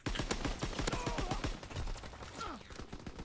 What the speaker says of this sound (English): Getting shot through the wall.